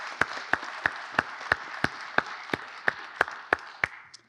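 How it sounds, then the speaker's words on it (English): An auditorium audience applauds, a wash of clapping behind a sharp, evenly spaced run of loud individual claps from someone close by, keeping a steady beat for about four seconds before tailing off. "Let's give a round of applause."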